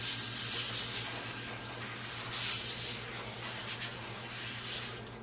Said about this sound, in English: now I'm just going to give it a light spray